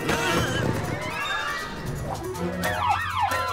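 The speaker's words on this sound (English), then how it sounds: "What? That sounds like a police bike!" A cartoon police motorcycle siren wails in rising and falling sweeps over busy music and effects in an animated scene, loud and close.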